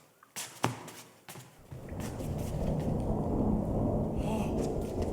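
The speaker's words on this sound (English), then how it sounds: "alas, the storm is come again" Stage thunder for a storm in a performance of The Tempest, a couple of sharp cracks followed by a long, deep rolling rumble that swells and sustains with rain-like hiss, moderately loud, no talking.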